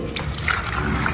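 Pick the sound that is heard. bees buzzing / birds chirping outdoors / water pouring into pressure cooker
water pouring into pressure cooker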